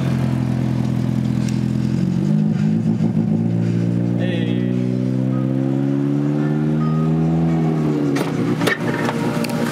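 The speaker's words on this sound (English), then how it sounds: "Oh, his tires are just spinning." A car's tires spin in place with a strained engine whining and rising in pitch, loud and steady across the whole stretch, while people talk over it.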